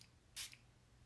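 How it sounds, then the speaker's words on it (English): A single short, soft hiss of facial mist spraying from a bottle, brief and faint in an otherwise quiet room. "And I'll just spray it."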